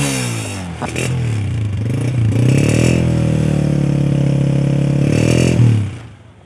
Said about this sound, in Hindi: अच्छा साउंड रिफ्लेक्ट कर रही है बाइक, अच्छा साउंड, इट साउंड्स गुड।